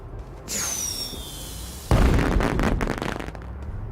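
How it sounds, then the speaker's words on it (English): A firework in the space-exploration game Astroneer whistles upward at night, then bursts with a loud boom followed by a crackling, sizzling tail that lingers for a couple of seconds. "We launched our firework."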